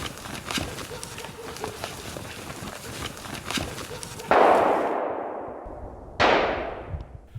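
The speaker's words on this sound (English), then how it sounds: "Shots ring out and all falls silent" Two loud gunshots crack out with trailing echoes at a driven wild boar hunt in the woods, following rustling and footsteps nearby.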